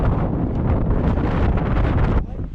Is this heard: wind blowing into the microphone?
yes